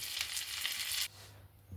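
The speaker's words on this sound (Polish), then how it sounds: "smażymy naszą ostatnią część kotletów, tych, które są tylko obtoczone y, w mące" Chicken breast cutlets coated only in flour fry in a pan with a fairly loud, hissing sizzle that drops off abruptly about halfway through, leaving a quieter background.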